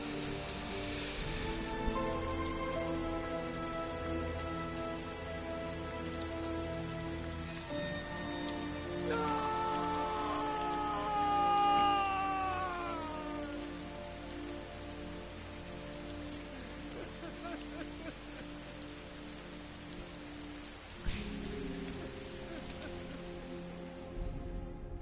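Rain falls steadily in the Heavy Rain video game, a continuous patter under sustained tonal music with a few soft thuds and no speech.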